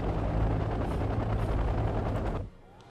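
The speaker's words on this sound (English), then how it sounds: "it is an anti-ship helicopter, which do carry anti-ship torpedoes" An anti-ship helicopter in the war game Wargame Red Dragon gives off a loud, steady rotor drone mixed with rapid gunfire, which cuts off abruptly near the end and leaves faint background sound.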